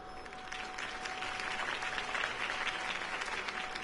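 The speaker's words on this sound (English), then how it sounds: "If only Mr. Wayne, my campaign's largest backer, could have heard that applause" Crowd applause after a campaign speech in a video game, a dense steady clapping from many hands held at moderate level for a few seconds with no break.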